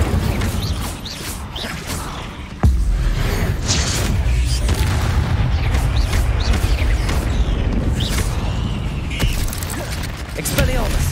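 Incendio fire spell cast against spiders in a spider den in Hogwarts Legacy, a loud whooshing burst with creaking, mechanical game effects layered over a dense low rumble, continuing for several seconds.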